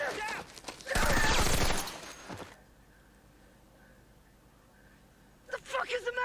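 Loud burst of gunfire from The Pacific, a dense fusillade lasting under a second and then fading into a quiet stretch with a faint steady tone, with voices talking over it near the start and end.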